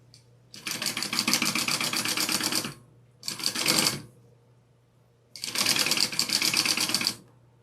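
Sewing machine stitching mesh onto an accent fabric piece for a cookie carrier, three close, loud runs of rapid rhythmic needle clatter, about two seconds, one second and two seconds long, separated by short pauses with a low steady motor hum between.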